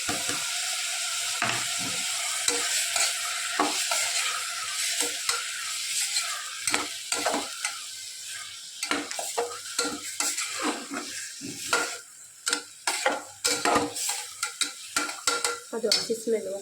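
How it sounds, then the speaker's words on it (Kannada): Masala paste frying in oil for hotel-style rice bath, a steady close sizzle with repeated scraping and clinking of a spoon stirring against the pan throughout, growing choppier toward the end. "ಅದು ಹಸಿ ಸ್ಮೆಲ್ ಹೋಗುವವರೆಗೂ ಬಾಡಿಸ್ಕೊಳ್ಳಿ ಎಣ್ಣೆಗೆ."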